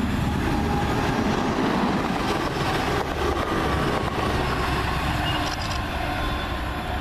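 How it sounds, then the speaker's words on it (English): A TransPennine Express Class 185 unit runs northbound through Kearsley, producing a steady, moderately loud rolling rumble of wheels on rails with faint clicks, sustained throughout with no voices. "Comes a Transpennine service heading northbound"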